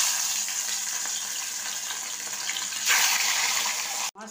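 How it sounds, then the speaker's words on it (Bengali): Two pieces of katla fish sizzle in hot mustard oil, a steady crackling hiss that swells louder partway through and then cuts off sharply just before the end. "এবার মাছ দুটো ভেজে নেব।"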